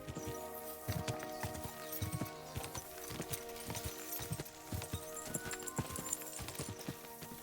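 Horse hooves clip-clop at a steady trot in the video game Kingdom Come: Deliverance 2, a close, rhythmic clatter of regular hoofbeats that keeps going with no voices over it.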